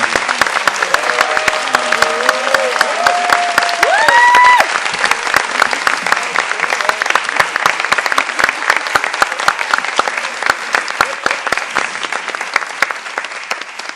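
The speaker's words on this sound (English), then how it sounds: "if everyone can just give them a second applause" An audience at a short film festival screening and Q&A gives a loud, sustained round of applause, dense clapping that carries on steadily and then starts to thin, with a brief voice early on.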